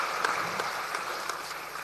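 Audience applause welcoming officials, including the deputy chief minister, at the opening of a two-day Bihar AI summit workshop: a steady, dense wash of clapping from a crowd, continuous and moderately loud with no talk over it.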